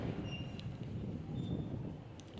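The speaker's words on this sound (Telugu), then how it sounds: "గుత్తి మధ్య తిరుగుతున్న డెమో ట్రైన్" Low rumbling of a DEMU passenger train running between Dhone and Gooty, rolling past at a distance, with faint squeals and clicks from the wheels over the tracks.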